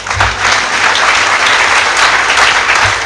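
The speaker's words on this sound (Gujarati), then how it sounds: "તાળી પાડી એટલે હું ફરીથી બોલી દઉં" An audience claps at a motivational talk, a full burst of sustained applause that carries loud and steady throughout.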